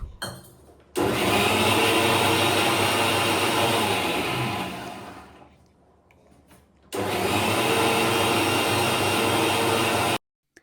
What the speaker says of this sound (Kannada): ಸ್ವಲ್ಪ ಸ್ವಲ್ಪ ನೀರನ್ನು ಆ್ಯಡ್ ಮಾಡ್ಕೊಳ್ತಾ ನುಣ್ಣಗೆ ರುಬ್ಕೊಳ್ಳೋಣ.